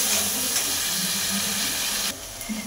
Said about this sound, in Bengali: সামান্য জল দিয়ে এবার মশলাটা তেলের সঙ্গে কষিয়ে নেব কিছুক্ষণ।